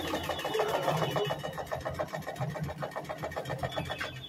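A heavy, robust vintage Kenmore 117.841 sewing machine stitching zigzag with a lengthened stitch: a fast, steady mechanical clatter of needle strokes that runs without a break and fades slightly toward the end.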